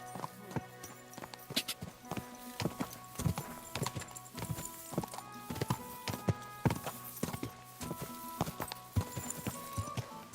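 Grey horse's hooves in Kingdom Come: Deliverance II clip-clop at a steady, slow walking rhythm, close and crisp, with soft tonal game music underneath and no talking.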